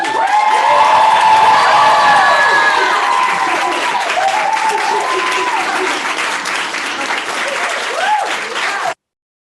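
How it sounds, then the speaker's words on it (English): A graduation ceremony audience breaks into loud, sustained applause with cheering and whoops. The close, dense clapping holds steady, eases slightly toward the end and then stops abruptly. "let's do one giant roaring applause for everyone"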